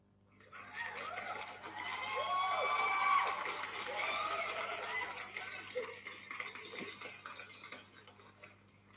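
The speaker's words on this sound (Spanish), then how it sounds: "ahora hemos hecho el aplauso virtual desde parte de Mentor" Virtual applause plays during an online meeting as a synthetic burst of clapping with cheers and whistles, swelling over a few seconds and then tapering off, fairly quiet.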